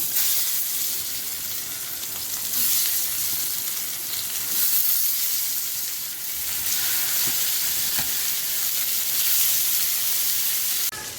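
Marinated fish pieces fry in hot oil in a pan over a low gas flame, a steady close sizzle with occasional crackles and spatter continuing throughout.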